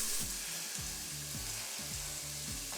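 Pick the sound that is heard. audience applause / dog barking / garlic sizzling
garlic sizzling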